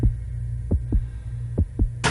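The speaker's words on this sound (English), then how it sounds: "Is anybody else's heart pounding right now?" A video game plays a pounding heartbeat effect: deep, evenly spaced double thumps over a steady low hum, loud and close, ending in a sudden burst of noise, with no speech.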